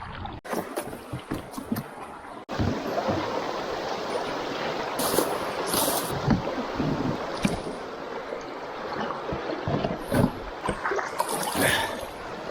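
A canoe paddled upstream against the current into a headwind: continuous splashing and rushing water mixed with gusty wind buffeting the microphone, close and fairly steady.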